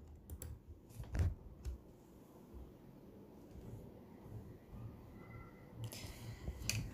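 Faint, quiet keystrokes on a computer keyboard as an admin password is entered for a TP-Link dual-band Wi-Fi router, a few scattered clicks over low background hum.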